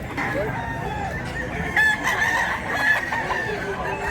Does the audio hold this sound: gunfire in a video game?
no